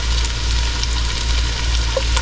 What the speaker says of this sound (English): butter's melted, in goes the onions, and I'm just going to cook them till they're a little bit soft and translucent